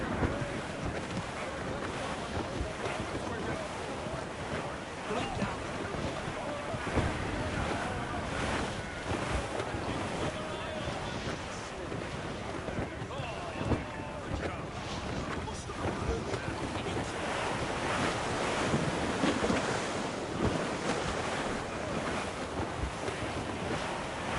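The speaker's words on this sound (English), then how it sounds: "It's quite a rough squall, Captain." Stormy sea in Assassin's Creed Rogue: a rough squall of crashing waves and gusting wind roars continuously around a sailing ship, loud and dense throughout, with voices talking over it.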